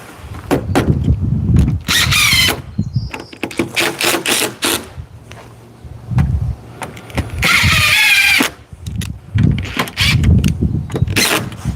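A power drill drives screws into Trex composite deck boards outdoors, giving loud high whirring bursts of varying length between clicks, knocks and handling noise, with no talk over them.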